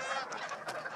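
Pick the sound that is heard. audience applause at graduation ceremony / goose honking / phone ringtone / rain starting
goose honking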